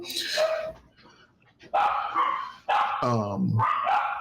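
Titan and Grizz, two dogs, bark loudly and close in repeated bursts, with a whining, yelping cry mixed in near the end and a few quiet gaps between volleys.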